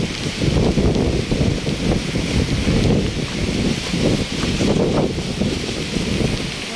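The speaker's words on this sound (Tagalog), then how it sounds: "Napakalakas po ng hangin kung inyo pong nakikita." Strong gusts from Typhoon Kristine batter a stand of banana trees, a continuous roaring rush of wind and rustling leaves that surges and eases in waves, loud and close with microphone buffeting.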